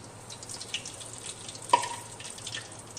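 Cloves, cardamom and bay leaf frying in oil for chicken machboos rice, a faint, steady sizzle with light crackles and one brief clink, no talking.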